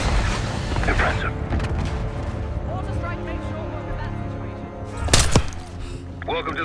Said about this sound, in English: Mortar on the way.